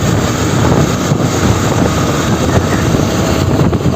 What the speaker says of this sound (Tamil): ஏன்னா ஹாண்டாவோட இன்ஜின் வந்து ரொம்பவே ஸ்மூதரான இன்ஜின்.